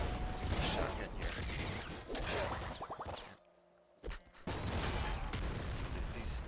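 Gunfire bursts from the video game Nuclear Throne, with shotgun and SMG weapons, sounding as loud dense volleys over a busy game soundtrack, broken by a short quiet gap before the firing resumes. Someone talks over parts of it.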